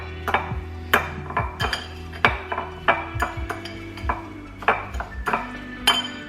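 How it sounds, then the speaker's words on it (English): Chickpea tuna with fresh dill and garlic powder being mixed in a bowl: a steady run of sharp clinks and taps from a utensil against the dish, repeating in an irregular rhythm, close and fairly clear, with no talking. "Give that a mix up as well."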